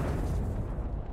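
A grenade blast in Killing Floor 2, a dense broadband boom that fills the whole short moment at steady loudness with a rumbling low end, no voices over it.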